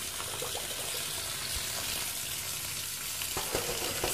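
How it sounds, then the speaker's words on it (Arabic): Hot cooked lupin beans being rinsed in water, a constant close rush of running and splashing water with a few sharper knocks near the end, no talking. "دلوقتي هدي للترمس غسله سريعه من الميه اللي كان فيها."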